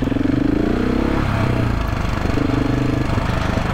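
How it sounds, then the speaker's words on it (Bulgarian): A GasGas SM700 motorcycle engine runs close and loud with a steady, slightly clattery rhythm, being checked for bad engine sounds. "този мотор е малко по-шумен, но шумът е еднакъв и на двата двигателя."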